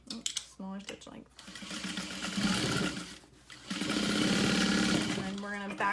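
Sewing machine stitching a seam on a tote bag with a half-inch seam allowance and small stitch length, running in two sustained loud bursts with a brief pause between and short starts at the beginning and end.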